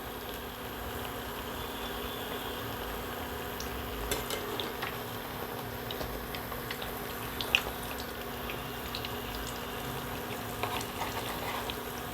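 Fish noodles frying in a pan of oil, a steady low sizzle running throughout with occasional faint clicks of a utensil, fairly quiet and without any voices.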